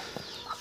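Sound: brooding hen clucking

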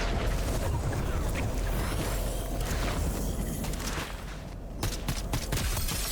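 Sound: gunfire in Fortnite video game

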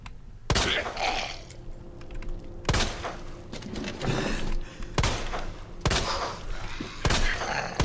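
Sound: gunfire in Resident Evil 2 video game

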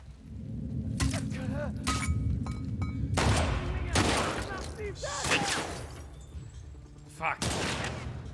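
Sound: gunfire in The Last of Us Part II video game

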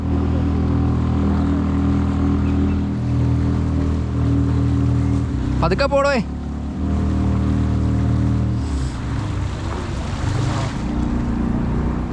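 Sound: engine of a small fishing boat on the river

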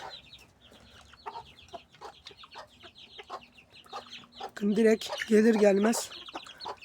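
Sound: chickens clucking while eating barley

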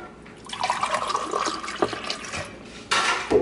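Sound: water being poured into a cup

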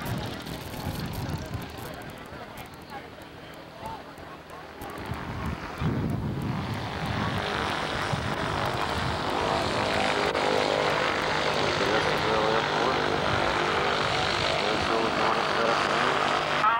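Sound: Apache military helicopter

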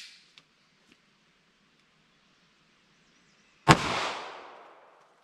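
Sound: short barrel .38 or 9mm handgun shots over chronograph

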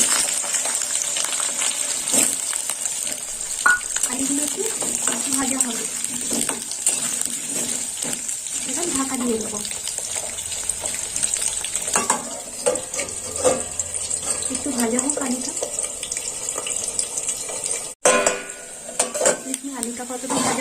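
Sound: diced potatoes frying in oil tempered with mustard seeds

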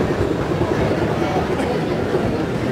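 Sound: train in Vienna rail station

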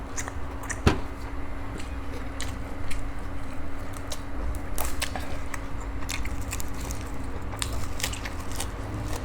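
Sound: crunchy chewing of grilled pork intestine

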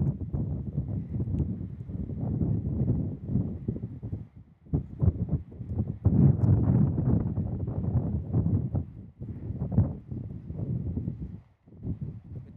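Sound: strong wind

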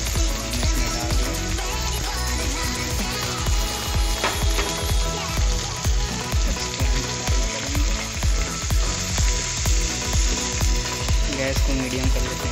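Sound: dal frying in pan on medium gas

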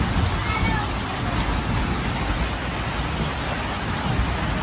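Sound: rain falling

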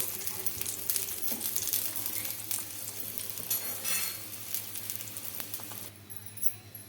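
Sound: wheat flour dough frying and roasting in a pan

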